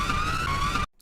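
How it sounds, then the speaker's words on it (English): Whistling sampled and processed, pitched up and down and autotuned into a wavering, siren-like electronic tone, loud and continuous for most of a second before cutting off abruptly into near silence. "I then sampled my own whistling mix, and this is what I got."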